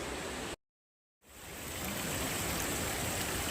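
Steady rushing water from a small mountain waterfall pours close by in a dense, broadband roar, cutting out briefly to silence before swelling back up.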